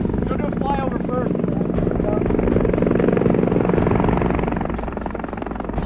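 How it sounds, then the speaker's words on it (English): A military helicopter flies over and comes in to land for a casualty evacuation during a reservist exercise, its loud, throbbing rotor chop steady and close throughout, with voices faintly under it. "the helo can safely land and evacuate the casualties"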